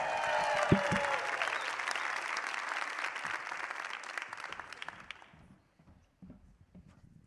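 Audience applause at a science comedy night, dense clapping that gradually fades out over several seconds, leaving a few scattered claps and quiet room noise.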